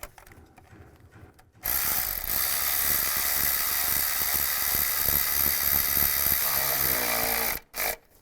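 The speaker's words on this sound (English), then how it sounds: "Now you can go around and tighten them all down." Ratchet tightening bolts during a timing chain job on a 2002-2009 Chevy Trailblazer, a rapid continuous run of close, loud clicking strokes lasting several seconds before stopping abruptly.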